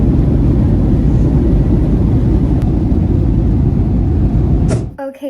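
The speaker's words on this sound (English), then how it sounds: "I'm finally on the plane back home." Passenger jet cabin on the ground before takeoff for a flight home from Honolulu: a loud, steady broadband rumble and hiss that continues unbroken, then drops away near the end into a few quieter knocks.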